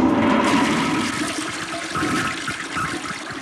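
A toilet flushes with 1.6 gallons of water, a loud close rush of swirling water that settles into a steady gurgling drain, with no voices.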